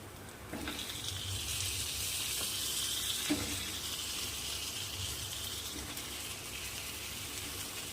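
Brinjals dropped into spiced masala frying in hot oil give a steady loud sizzle with hissing, stirring clatter and a few soft knocks from the pan, continuous throughout with no voices.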